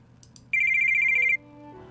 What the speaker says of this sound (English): that's my phone's timer